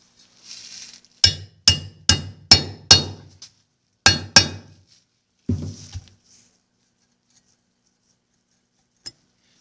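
A hammer taps metal sharply, seating a bushing in a Johnson 9.5 HP outboard lower unit: a quick run of five blows, a pause, two more, then a couple of softer taps and a faint final click.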